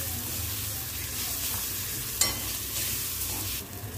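Tomatoes sautéing with turmeric and asafoetida in a pan, a steady close sizzle with faint stirring scrapes and one brief clink partway through.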